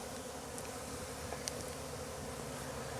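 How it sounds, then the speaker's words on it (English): Honey bees swarm a sugar-water feeder in autumn sun, their steady soft buzzing a continuous close drone with a few brief louder passes of individual bees. "The bees have found the feed"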